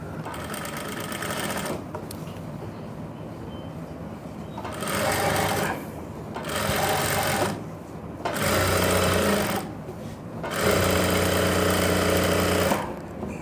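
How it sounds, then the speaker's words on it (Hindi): A sewing machine stitches trousers with a belted front and elastic back, running over an existing seam in several bursts of steady rapid whirring separated by short pauses. "क्योंकि मैं सिलाई के ऊपर ही सिलाई लगा रहा हूँ।"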